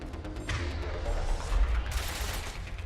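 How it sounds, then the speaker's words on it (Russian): Gunfire during combat in the video game Mass Effect 3, with bursts of shots and booming impacts that run continuously at moderate loudness. There is no speech over them. "Где-то стрельба."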